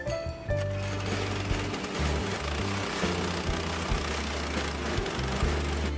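A non-electric chopper machine for shredding dried banana stems into pig feed, run at a remote mountain farm: a loud, steady mechanical drone with a rhythmic chugging pulse throughout, with no talking.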